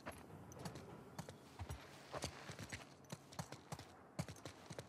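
Horse hooves clip-clop steadily through The Last of Us Part II, a quick, irregular run of close, crisp knocks over a soft outdoor ambience.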